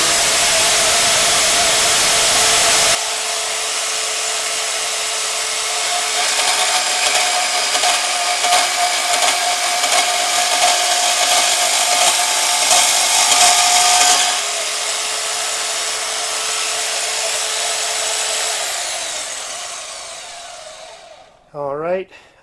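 A WEN portable bandsaw with variable speed cuts through 1/8 inch steel plate with a loud, steady high-pitched whine and grinding that runs for over ten seconds, then spins down, followed by a few faint clanks.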